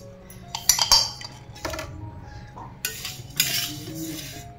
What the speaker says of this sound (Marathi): इथं आपण आता उडीद डाळ भाजून घेऊया